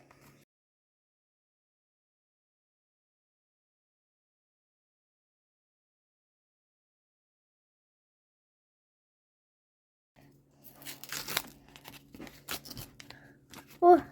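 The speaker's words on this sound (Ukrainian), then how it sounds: "Ми можемо викривати цей пакетик." A paper surprise packet is torn open and crinkled close by, in a short burst of rustling and ripping after a long quiet stretch, with quiet voices nearby.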